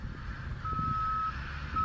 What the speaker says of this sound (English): One of the main ones being the loud truck.